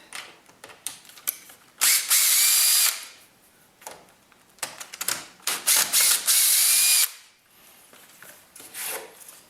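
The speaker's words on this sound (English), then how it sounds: "Now we'll switch hole saws and do this." A power drill drives a hole saw through a door for a lockset and bolt. Two loud sustained bursts of whining cutting stand out among shorter starts, clicks and handling noises at close range.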